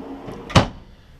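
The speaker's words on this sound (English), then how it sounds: "Nice deep drawer. These are full extension gliders." A full-extension drawer with gliders in the kitchen of a 2015 Airstream Classic 30J travel trailer slides and closes with a single close, solid thump after a few soft rustles, then quiet room tone.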